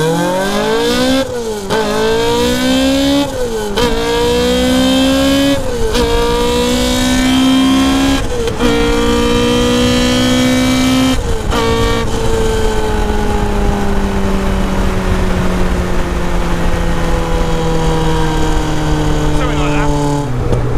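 A Caterham R500 Superlight sports car accelerates hard through several gear changes, its loud exhaust climbing and dropping with each shift before settling into a steady cruise, while people talk inside the car over the engine.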